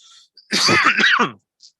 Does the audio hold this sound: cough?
yes